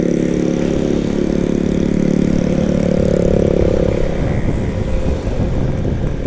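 A loud, steady engine drone with a low rumble of motorcycles, including a noisy Yamaha Mio, idling close by in a traffic jam at Puncak, running continuously without pause.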